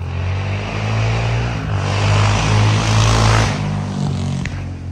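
A motorcycle runs near a house, giving a loud, steady low engine drone that swells in the middle and shifts pitch toward the end, with no talking.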